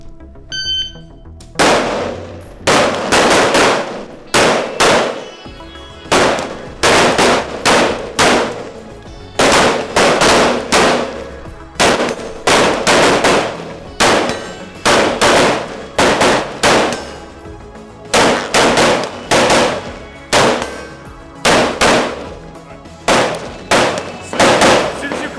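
Loud gunshots at a Green Beret shooting drill, fired in a steady rhythm of single and paired reports about a second apart, sharp and close throughout the long sequence, with no talking.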